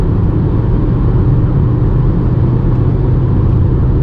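Honda Civic FC engine with its stock air filter, heard from inside the car as a steady low drone that holds under acceleration, with no talking.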